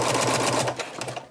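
Sewing machine stitching a one-size flex-fit cloth diaper, a fast, close, rattling run of stitches that slows and softens toward the end, as for a back stitch.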